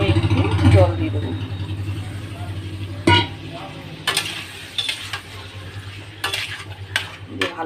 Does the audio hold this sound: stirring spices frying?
yes